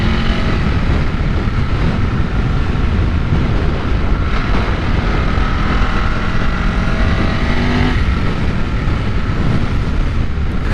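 A 2001 Ducati 996 motorcycle engine runs steadily while being ridden, a loud, continuous roar blended with heavy rushing wind noise for the whole stretch, with no talking.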